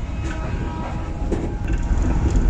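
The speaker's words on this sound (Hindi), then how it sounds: "ट्रेन इस वक्त बखर रेलवे स्टेशन से रवाना हो रही है अपनी अगली मनाजिल की जानिब" The Mehr Express, a private train, pulls out of Bakhar railway station, heard from on board as a dense, loud rumble of wheels and carriage noise with faint clatter throughout.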